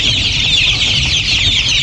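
Arab chickens on a farm cluck together in a dense, continuous chorus that is close and fairly loud, with no voices over it.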